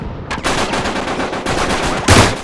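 Loud rapid gunfire in Uncharted 3 multiplayer, a continuous rattling stream of shots with a slightly heavier burst near the end.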